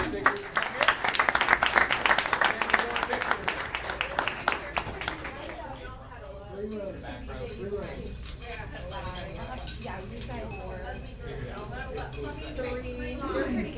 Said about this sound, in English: First, I'm going to give a big round of applause.